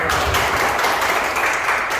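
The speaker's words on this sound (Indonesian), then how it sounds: "Oke, kita kasih tepuk tangan." Audience applause in a university teaching session, a steady wash of clapping from a group, moderately loud and continuous throughout with no pauses.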